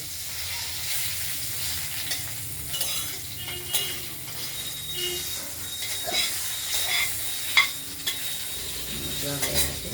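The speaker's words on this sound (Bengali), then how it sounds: "ফোড়নটা দেওয়ার পরে কেটে রাখা লাউগুলো আমরা কড়াইতে দিয়ে দিলাম" Chopped bottle gourd stirred in a hot open wok after tempering with spices, a continuous sizzle broken by repeated scraping and clinking strokes of a spatula, close up, no speech.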